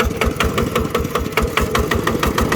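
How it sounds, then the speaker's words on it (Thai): A running tractor engine with a steady, rapid knocking rhythm, loud and close, repeating evenly throughout. "ตรงนี้อาจจะมีเสียง เขกหน่อย แต่ว่าอาร์ทีจะเขกดังหน่อย"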